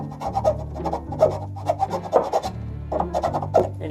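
Rhythmic rasping strokes of sandpaper rubbing on wood, close up, in quick repeated passes with a low hum behind.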